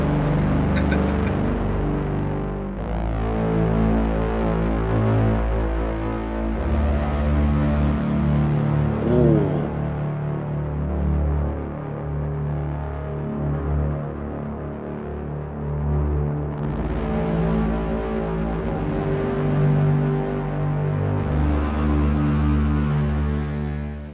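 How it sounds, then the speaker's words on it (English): A gritty, distorted FM synth tone drones and warbles, an LFO sweeping its filter rhythmically up and down in a slow wobble, with no voices. "Distortion, and then there's an LFO on the filter."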